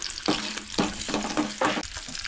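Ginger and garlic sauté in a pan while being stirred: about four rhythmic scraping bursts over a close, steady sizzle, with no voices.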